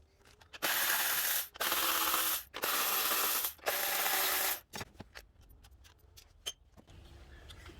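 A ratchet backing out 10 mm bolts from the ignition coils of a 2014-2021 Honda Accord 2.4L. Long, loud grinding bursts come first, then sparse clicks trail off.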